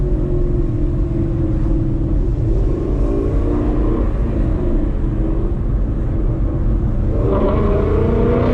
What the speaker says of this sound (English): Downshift sounds so clean with the Corsa.